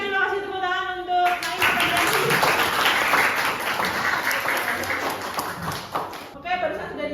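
A room of people clapping during a school group presentation session, brisk scattered applause lasting several seconds between stretches of speech at the start and end.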